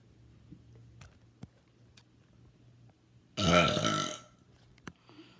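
A single loud, drawn-out burp of about a second stands out against a quiet room, with faint ticks and small knocks before and after it.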